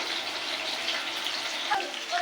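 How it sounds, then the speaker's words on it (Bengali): Water squeezed by hand out of boiled banana flower, a brief close splashing, trickling gush with a small clink near the end. "জলটা চিপে ফেলে দেবো"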